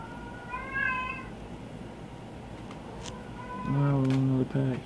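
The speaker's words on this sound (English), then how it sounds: "Cats." Cats meow: one short mew early, then a louder, drawn-out pair of meows near the end, heard close over a low background murmur with speech-like sound.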